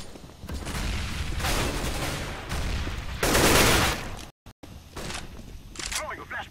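Gunfire in CS:GO competitive matchmaking, bursts of rapid automatic shots and a heavy volley, broken by a brief dropout, then scattered shots and footsteps close by.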